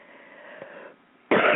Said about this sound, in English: I have a little cough today